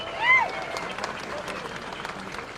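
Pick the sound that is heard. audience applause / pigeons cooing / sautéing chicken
audience applause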